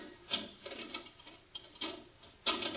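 A wheel snaps onto the rail of an ASKO dishwasher basket with a few sharp, quiet plastic clicks and rattles, close by and faint.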